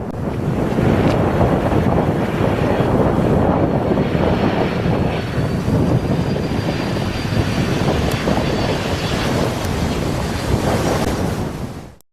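A plane comes in to land in strong crosswind at Madeira Airport. Its engine roar is steady and loud under heavy wind buffeting on the microphone for about twelve seconds, then drops away sharply at the end.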